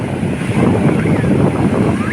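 Steady wind and rolling sea surf at a Bulgarian Black Sea beach, a continuous broadband rush with gusty microphone buffeting and no distinct wave breaks, loud and close throughout.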